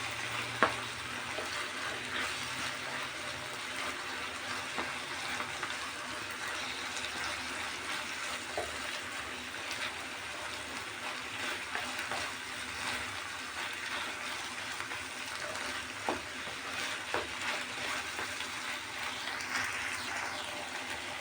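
Beef cubes fry in a pan with a constant faint sizzle, interrupted by occasional sharp clicks and scrapes as they are stirred; no one speaks.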